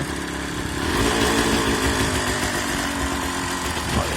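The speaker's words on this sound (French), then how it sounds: "c'est vraiment une moto qui tourne avec le pot à l'ancienne" A KMX 125 motorcycle with an old-style exhaust runs nearby with a loud, rough, steady chugging, the exhaust note pulsing evenly throughout.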